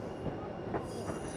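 White Pass Railroad train rolling along its tracks on a mountain route, with a continuous low rumble of wheels and faint metallic squeals rising briefly over the steady rolling noise.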